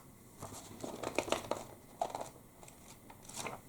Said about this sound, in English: Some page turning for you.